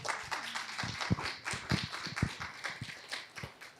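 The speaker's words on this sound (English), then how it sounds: "Maybe we should give you a round of applause." A small audience at an evening conservation panel talk gives a round of applause, scattered close hand claps forming an uneven, moderate patter that continues for several seconds.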